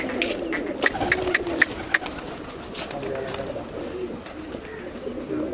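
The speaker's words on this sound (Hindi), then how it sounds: "केरा कबूतर है सही" Pigeons coo softly at a pigeon racing trap competition, with scattered clicks and flutters under steady background noise and some nearby talk.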